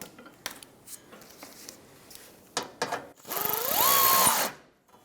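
A power drill snugging bolts on a 1996-2002 Toyota 4Runner rear bumper end: a few short taps and clicks, then a rising whir that holds for about a second before stopping, close and loud.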